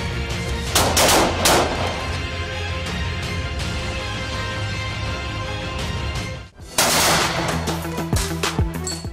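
Gunfire rings out during a special forces counter-terrorist tactical exercise that includes storming a building: loud, close bursts and rapid repeated shots, a brief lull, then another heavy volley.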